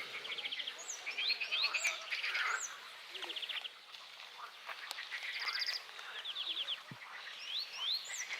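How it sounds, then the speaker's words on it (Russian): Birds chirp and trill in repeated bursts in a park, bright calls overlapping at a moderate distance against a quiet outdoor background. "слышны звуки птиц"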